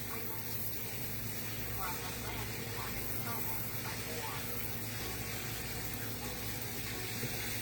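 Running tap water rinsing canned no-salt-added black beans in a kitchen sink, a steady broadband splashing wash that holds level throughout, close and continuous with no voices.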